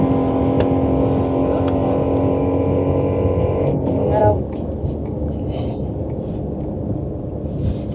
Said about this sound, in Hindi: टुवर्ड्स द एंड आते आते अब मैक्सिमम स्ट्रेन पड़ रहा है इंजन में. फर्स्ट गियर के अलावा नहीं चढ़ रहे हैं